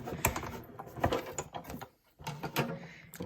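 A die-cutting machine cranked by hand partway through with a cutting plate loaded for stitched rectangle shapes, producing soft clicking, grinding mechanical turns in uneven bursts with a brief pause, fairly quiet and close.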